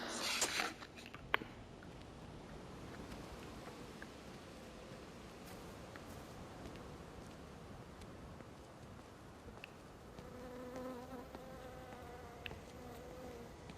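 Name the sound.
insects chirping, from the video game Everybody's Gone to the Rapture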